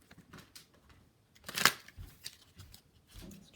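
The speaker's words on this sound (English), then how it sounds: "Just trying to shuffle it the other way." Tarot card deck being shuffled by hand, with soft riffling and a louder burst of flicking cards in the middle, close and fairly quiet with no talk.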